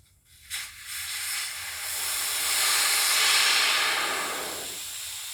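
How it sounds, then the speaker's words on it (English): Air hisses steadily out of the valve stem of a low backhoe tire. The hiss comes in after a brief click, swells, and holds close and clear. "Some air coming out."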